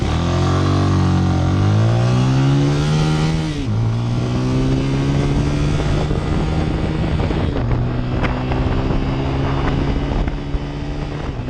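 A 2019 CSC SG250 motorcycle engine accelerates hard and loud through the gears, its revs climbing steadily, dropping at each shift and climbing again, with wind rushing past throughout.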